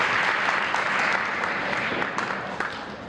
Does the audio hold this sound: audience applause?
yes